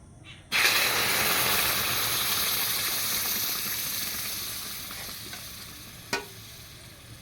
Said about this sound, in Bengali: কড়াটা উনুনে বসিয়ে দিয়েছি এবার আমি আম সত্ত্বর জন্য আমটা যে গুলে রেখেছিলাম সে ঢেলে দেবো